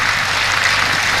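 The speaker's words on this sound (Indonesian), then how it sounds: "Kalau ada tepuk tangannya berarti hafal" Audience applause at a gathering at the Sidogiri Islamic boarding school in Pasuruan, a dense, steady wash of many hands clapping at once, filling the whole moment without a break.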